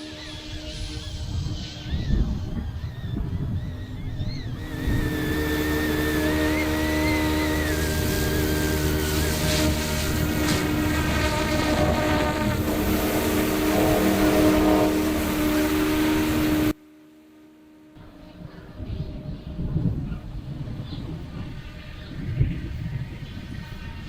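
Yu Xiang Apache F11-S scaled GPS RC helicopter spinning up and flying, a loud steady whine of rotors and motor with tonal harmonics that cuts off abruptly, then quieter outdoor noise follows.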